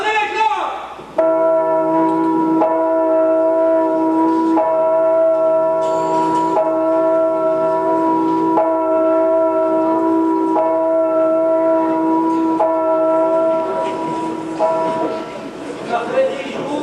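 Church bells ringing loudly and steadily in repeated tolling strokes, sustained ringing tones layered over one another and continuing without pause.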